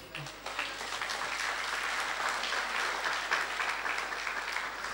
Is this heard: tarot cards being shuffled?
no